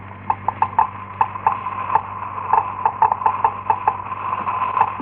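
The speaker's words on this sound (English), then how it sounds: "That sound is being made by a Geiger counter," Geiger counter clicking as a sound effect in a 1956 radio drama, sharp irregular ticks in quick bursts over a steady low hum, close and fairly loud with no voices.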